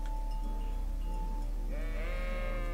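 In the video game Kingdom Come Deliverance, a sheep lets out a drawn-out bleat over a steady low hum of game ambience, with a second wavering bleat rising near the end.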